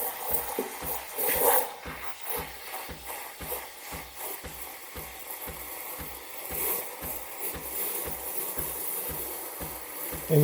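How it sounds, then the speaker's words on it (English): The steam wand of a Breville Barista Express froths milk in a jug, a continuous hissing, gurgling rush with a rhythmic low rattle running underneath throughout. "you're going for the sound, really. It's the sound of the foam"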